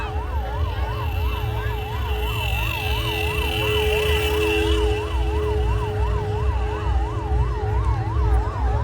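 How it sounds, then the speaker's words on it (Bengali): An ambulance siren wails loudly and steadily, cycling up and down, as it passes close through a dense crowd at a large devotional fair for the goddess Lakshmi. "দেখুন অ্যাম্বুলেন্স যাচ্ছে অ্যাম্বুলেন্স"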